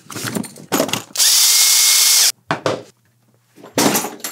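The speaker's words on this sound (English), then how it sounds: "this is certainly not overkill for drilling a small hole in my base for the flying stand" A power drill bores a small hole in the base of a Warhammer 40k miniature, with one sustained, close, high whine lasting about a second, framed by short bursts of handling noise and clicks.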